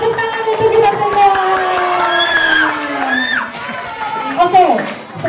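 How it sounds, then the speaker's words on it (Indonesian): Group of children clapping and cheering together, a lively crowd burst with shouts and whoops over the claps, voices rising and falling close by. "Tepuk tangan untuk kita semua."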